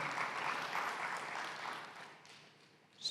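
A church congregation applauds during a Sunday service, a steady wash of many hands clapping at moderate distance that fades gradually over about three seconds.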